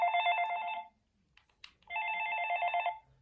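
A Panasonic KX-TGE822 cordless phone rings at low volume, two electronic ring bursts separated by a short gap with faint clicks.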